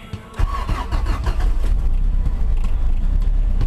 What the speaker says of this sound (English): So I'm gonna start it up for you and let you hear the car.